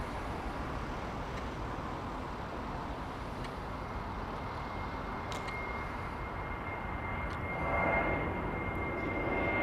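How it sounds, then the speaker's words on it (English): An Emirates Airbus A380 at London Heathrow passes as a steady, broad engine roar at moderate distance, swelling slightly louder near the end, with no talking. "it's another Emirates 380"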